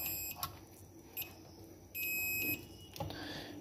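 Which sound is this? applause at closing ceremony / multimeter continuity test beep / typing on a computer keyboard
multimeter continuity test beep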